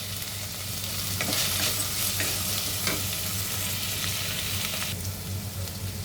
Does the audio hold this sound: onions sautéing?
yes